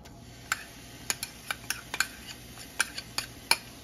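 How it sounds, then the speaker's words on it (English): Garlic and ginger being stirred with onions in a pan while cooking Singapore noodles: about a dozen sharp, irregular utensil clicks and taps against the pan over a faint, steady sizzling hiss, close by with no talking. "we're going to add the garlic and the ginger"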